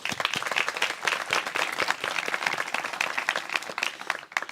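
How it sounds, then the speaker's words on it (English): Audience applause fills a pairing ceremony for search dog teams and their handlers, dense steady clapping from a crowd that holds at an even level throughout with no talk over it. "Round of applause for all of you being here."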